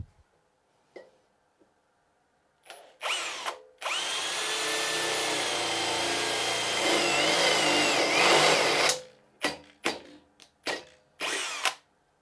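An Einhell TP-CD 18/120 Li-i BL brushless cordless drill bores an 8 mm hole in second gear, making a loud, sustained whine for about five seconds, with short on-off trigger bursts before and after.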